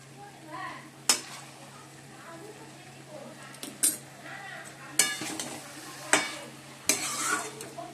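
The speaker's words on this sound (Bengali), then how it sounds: "বাঁধাকপি হয়ে গেছে, গরম মশলা দিয়ে দিয়েছি, একটু ঘি দেবো, এবার দিয়ে নামিয়ে দেবো।" A spatula scrapes and clinks against the pan as cabbage curry with garam masala and ghee is stirred, five or six sharp metallic strokes over a low, soft sizzle.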